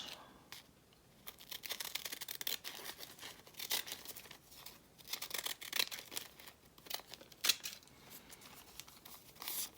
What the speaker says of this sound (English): I'm going to use my decal edge scissors.